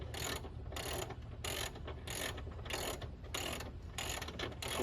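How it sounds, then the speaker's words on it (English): Ratchet loosening the last strut nut on a Mercedes GL550 X164 during front air strut replacement, a loud close rapid clicking in bursts of about half a second, repeating steadily with short pauses. "I'm just loosening the last nut up here, so the strut should drop"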